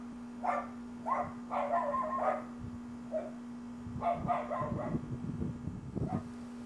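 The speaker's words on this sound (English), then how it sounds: "angry dogs." Angry dogs bark in repeated short bursts, several clustered volleys with brief pauses, over a steady low electrical hum.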